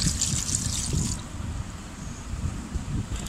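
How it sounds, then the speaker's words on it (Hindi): Water poured into a pot of mutton pulao with whole coriander, salt and turmeric, a steady trickling splash under a low background rumble, fairly close and brief. "2 ग्लास पानी ऐड करेंगे।"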